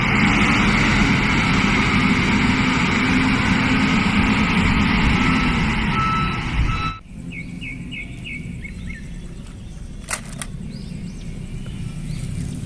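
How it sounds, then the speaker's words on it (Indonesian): Toy tractor producing a loud, continuous engine rumble and whir for about seven seconds, then stopping abruptly and leaving faint background noise with a few small clicks. "Wow, lihat ada traktor,"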